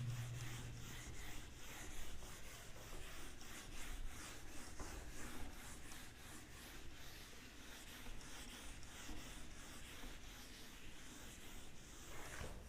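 Steady rubbing against a board as it is erased during a physics lesson, a continuous close scratchy swishing with faint rhythmic strokes, no speech.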